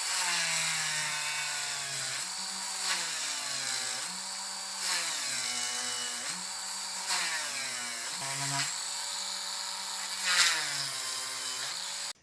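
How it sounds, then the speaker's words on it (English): A Dremel rotary tool cuts slots in a cherry wood fishing lure: a high, whining motor tone that rises and dips repeatedly as the bit bites into the wood, close and continuous for about twelve seconds. "So I'm going to go ahead and cut in some slots with the Dremel tool."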